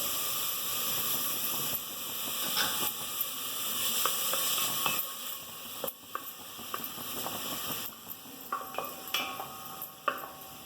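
Chopped onion sizzles in hot oil for a CKP-style chicken curry, with a steady frying hiss and intermittent stirring scrapes and clinks throughout, no talking.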